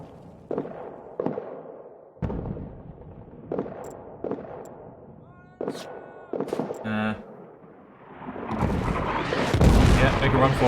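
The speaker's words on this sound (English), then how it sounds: "After all the artillery landed." Artillery and gunfire in a trench warfare video game: a series of sharp blasts and booms at irregular intervals, building into a dense roar of explosions toward the end, with voices speaking between them.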